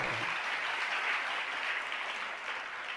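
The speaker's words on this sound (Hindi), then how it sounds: "आप लोगों ने ताली बजा दिया" Audience clapping at a Jain religious discourse, a steady dense wash of many hands held at moderate level for the whole stretch, with no voices over it.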